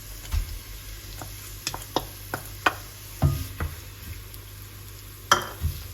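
Onions, garlic and shallots gently sautéing in a pan: a faint, low sizzle under scattered stirring clicks and utensil taps, quiet and close.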